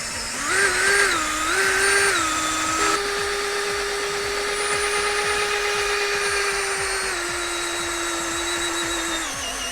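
A power drill drives the variable axle mechanism of a beach and road trailer used to launch a jet ski on a pebble beach. It whines steadily and loudly for about ten seconds, with the pitch stepping up and down several times.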